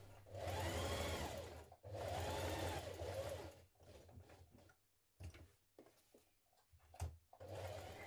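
A sewing machine stitches a jeans pocket facing to its lining in two long, steady runs. Then come short, stop-start bursts and a final run, up close and moderately quiet.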